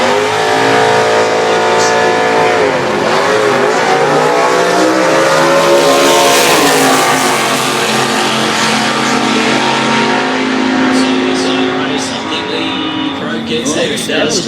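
Drag race launch between a Holden HB Torana and a Ford Probe at Winternats 2013: loud, sustained engine roar across the whole stretch with revving and a brief tyre squeal, with an announcer talking over it.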